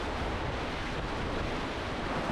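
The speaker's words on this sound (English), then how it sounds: "The rapids were a blast, and after taking on a little water right at the tail end" River rapids during a solo canoe trip give a steady, dense roar of rushing water, close and even throughout, with no talk.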